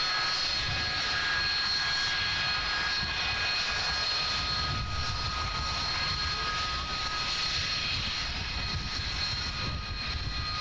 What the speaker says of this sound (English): what does sound like an old Warbird that just took off from East Mids Airport